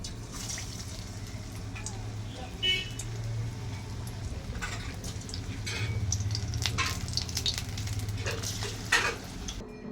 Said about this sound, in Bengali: এবার তেলটা আমার গরম হয়ে গেছে। এর মধ্যে আমি এবার ছাড়বো।